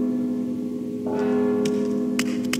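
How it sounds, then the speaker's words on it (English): Bell ringing in the stealth video game Mark of the Ninja: a steady, sustained tone with bright strikes layered on top, heard alone and fairly loud. "Don't you hear the bell?"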